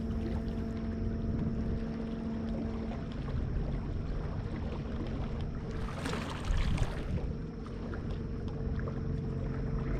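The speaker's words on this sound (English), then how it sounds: "I'm going to just motor in with the trolling motor, be nice and quiet" A boat's trolling motor hums steadily and quietly on the water during a fall fishing trip, a low continuous drone with a brief burst of wind or splash partway through.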